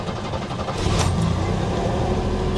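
Engine of an Audi A6 Avant Quattro with a manual gearbox cranking and catching, then settling into a steady, fairly loud idle rumble heard close up with no talking.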